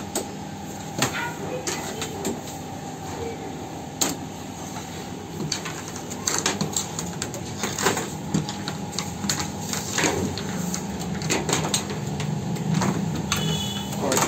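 A cloth printing machine for putting designs onto fabric runs with steady mechanical clatter, repeated knocks and whirring, loud and close, with occasional voices in the background.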